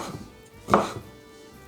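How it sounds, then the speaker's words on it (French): A knife chopping sausages into small pieces on a board, a few close, sharp chops with one louder thud in the middle and another at the end. "Et je vais les couper en petits morceaux"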